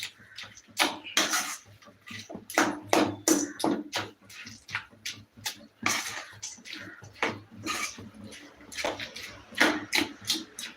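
Samosa filling stirred in a pan, a series of rhythmic scraping and clattering strokes of a utensil against the metal, close and fairly loud, repeating every half second or so.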